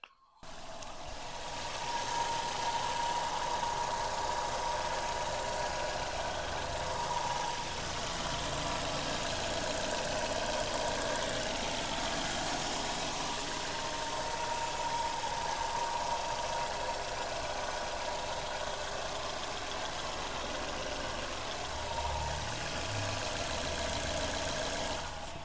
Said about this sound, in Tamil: வண்டியோட இன்ஜின் நாய்ஸ் நான் இப்போ உங்களுக்கு மைக்கை பக்கத்தில் வச்சு எப்படி இருக்குன்றதை காட்டுறேன்